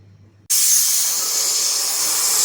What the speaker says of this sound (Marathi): कुकरचं झाकण लावून आपल्याला बटाटे शिजवून घ्यायचे तीन शिट्या द्यायच्यात आपल्याला